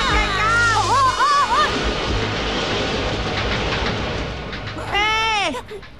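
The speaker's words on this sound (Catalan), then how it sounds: "Ah, ja ve el tren." Cartoon train arriving at a station in an animated Doraemon episode, a steady rumbling roll with clickety-clack under whistle-like tones at the start and end, loud and close.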